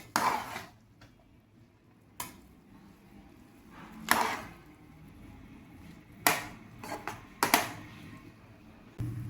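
Intermittent scraping and clanking of a utensil stirring drumstick leaves in a pan, several bursts spaced a second or two apart, close by with quiet gaps between.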